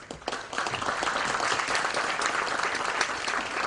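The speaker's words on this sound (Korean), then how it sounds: "박수로 모시겠습니다." An audience at an Easter church service applauds professors coming onto the stage. The clapping swells in after a brief quiet start and stays loud and dense throughout.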